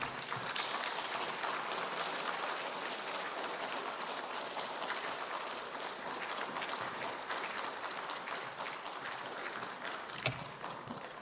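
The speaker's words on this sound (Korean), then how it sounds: "우리 강사님 나올 때 박수로 환영합니다" A church congregation claps to welcome a guest speaker at a revival meeting, with long, even applause from a large crowd that fills the room, heard at moderate distance and without speech.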